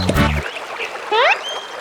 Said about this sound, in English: Suddenly, a hoarse quack comes from below Mama Duck.